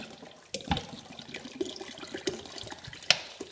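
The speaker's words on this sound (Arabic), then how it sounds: "ضفت خل التفاح، وهسه راح أضيف خل العنب" Grape vinegar poured into a water, salt and apple vinegar pickling mixture gives a short splashing, trickling run of liquid that is faint and close, with a few light knocks and a brighter splash near the end.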